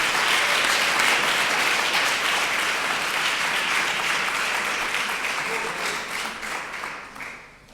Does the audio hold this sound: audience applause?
yes